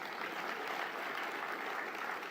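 An audience applauds the 911 team at a city address in Little Rock, a steady wash of many hands clapping heard alone for the whole short stretch.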